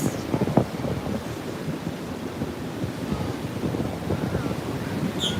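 Strong wind buffeting a microphone on Juno Beach, a steady low roar with gusty rumble throughout, near surf.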